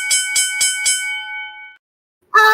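Four quick bright dings from a small bell ring in a steady rhythm and sustain into a fading hum, followed by a brief burst of another sound after a short silence.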